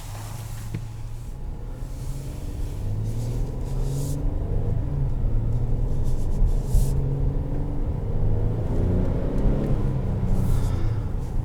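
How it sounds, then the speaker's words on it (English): The naturally aspirated V6 of a 2020 Kia Telluride idles and hums steadily with a low rumble, rising a little in intensity midway, with no one speaking. "So this has a naturally aspirated V6."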